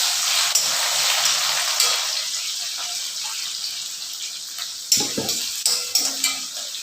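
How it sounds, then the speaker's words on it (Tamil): Onions frying in a pan for a cauliflower and potato curry, a hissing sizzle that fades, then a few sharp clanks of a spoon against the pan. "முதல்ல வெங்காயத்தை கொஞ்சம் வதக்கிட்டு"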